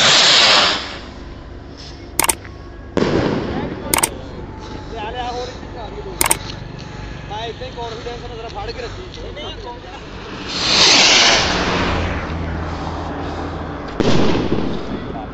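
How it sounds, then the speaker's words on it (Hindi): Fireworks at a wedding mehndi celebration pop in several sharp, loud cracks, with a few single bangs and longer whooshing bursts, while people talk nearby. "आतिशबाजी शुरू हो चुकी है"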